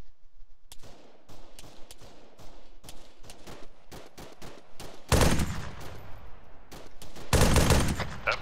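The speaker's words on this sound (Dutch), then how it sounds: "Ik hoor ook schoten vanaf de heuvel." Gunshots ring out from a hill in a tactical military video game. Irregular single shots and short bursts come at a steady pace, then grow louder and denser toward the end, with no talk over them.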